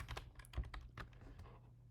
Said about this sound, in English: Sorry, I don't know why my keyboard is tripping out.